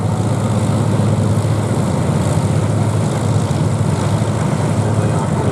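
A Pitts S-1D Special aerobatic aircraft of the Trig Aerobatic Team flies at the Duxford airshow in the UK, its propeller engine a loud, steady, droning roar that fills the whole stretch without a break.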